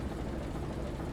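Diesel engine of a re-engined EMD GP9 locomotive idling in the Trainz 2022 simulator: a steady, low, rumbling drone held at an even level throughout, with no voices.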